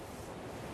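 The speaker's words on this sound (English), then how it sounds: "It's the sound of the waves." Sea waves wash ashore at the seaside in Teignmouth, a brief, soft, continuous surf hiss mixed with light wind.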